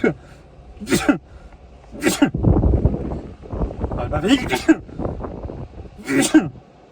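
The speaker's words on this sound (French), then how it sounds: "Dis-moi en commentaire combien de fois j'ai éternué." A man sneezes repeatedly, with about four sharp, forceful bursts spread over several seconds, close to the microphone, and breathy noises and talk between them.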